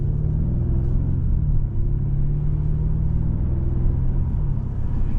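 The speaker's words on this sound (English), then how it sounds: "And the shifts are very smooth coming out of this 8-speed wet dual clutch." A 2025 Hyundai Sonata N-Line with an 8-speed wet dual-clutch transmission accelerates in a loud, steady, low engine rumble heard from inside the cabin, with subtle dips as it shifts gears smoothly.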